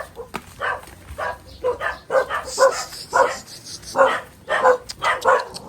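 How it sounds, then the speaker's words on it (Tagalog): Several dogs bark and yip in uneven bursts, fairly close, on an overgrown road leading to a house, with no talk over them. "May aso."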